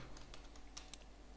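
VBA code being typed on a computer keyboard gives a quick run of about eight soft, close key clicks in an uneven rhythm over quiet room hiss.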